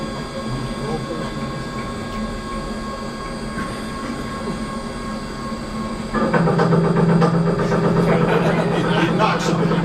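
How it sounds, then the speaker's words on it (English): A V6 engine that knocks a bit runs steadily with a droning hum, then grows noticeably louder and rougher partway through; faint voices murmur in the background. "there's the V6 engine"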